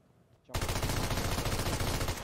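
Rapid gunfire erupts in PUBG/BGMI, a dense continuous rattle of shots that starts abruptly and keeps going steadily, with a voice briefly audible before it.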